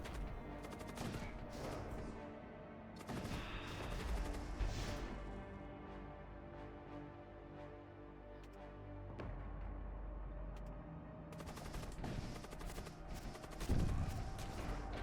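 Missiles and heavy weapons firing in a space combat video game, a dense continuous barrage of blasts and bursts layered over each other, loud and sustained with no pauses.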